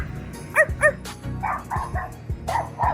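A small dog barks and yips repeatedly in short, sharp bursts nearby at a street-side spot in Vietnam, with a steady low background hum and no talking.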